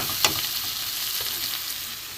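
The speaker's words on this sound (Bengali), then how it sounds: "মশলাটা ভালো করে কষিয়ে দিতে হবে পুড়ে না যায়" Spices fry in a pan for Bengali fish chops, giving a steady close sizzle with occasional scrapes and taps of a stirring utensil.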